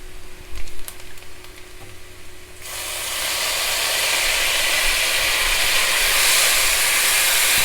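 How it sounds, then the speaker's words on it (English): Tomatoes and onions sizzle loudly in hot oil while red kidney beans are cooked, a quiet stretch with faint clicks giving way to a sudden, steady, close frying hiss that holds to the end. "Just the way the tomatoes and onions are mixing in the hot oil"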